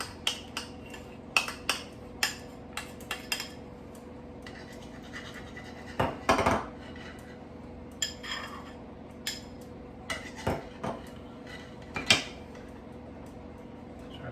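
Spoon scrapes a thick mixture of tomato paste, tamari and balsamic glaze into a pan for a mushroom stew, making a series of short, sharp scraping clicks at irregular intervals with no talking.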